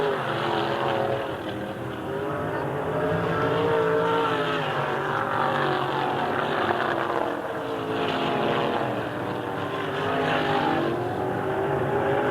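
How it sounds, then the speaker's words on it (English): USAC midget race cars roar around the Raven Raceway track at a 1987 race, several engines blending into a loud, continuous, droning whine that swells and fades slightly as the cars circle. "Those orange machines are running real well right now, Jack."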